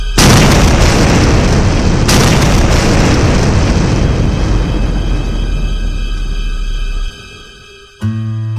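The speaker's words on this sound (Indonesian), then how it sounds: "Mobil Arimbi terjun ke jurang dan meledak hingga menghanguskan mayat Arimbi." A car plunging into a ravine and exploding: one massive roaring boom sustains for about seven seconds, then cuts abruptly into near silence, followed by a brief low hum.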